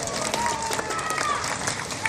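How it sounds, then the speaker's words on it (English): Scattered clapping from an audience at a Pacific white-sided dolphin show at the Vancouver Aquarium, brief and moderate, mixed with crowd murmur and partly under a voice talking. "Let's give her a round of applause"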